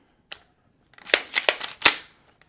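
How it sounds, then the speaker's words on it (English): An empty rifle dry-fired during drills, a sharp mechanical click, then a quick cluster of several crisp metallic clacks and a final snap, close and loud with no talking. "always make sure your weapons are empty before you dry fire"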